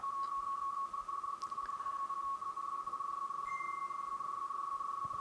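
Radio teleprinter line-up tones from a Lorenz SZ42 transmission repeating the RY test pattern: a steady, unbroken electronic tone holds over faint hiss, with a second, higher tone briefly joining near the end.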